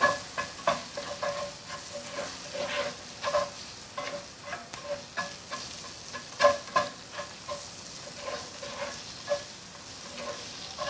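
Onion and beets frying in a pan for Ukrainian borshch, continuous soft sizzle broken by frequent scraping stirs and light clinks of a utensil, close and fairly quiet, no talking.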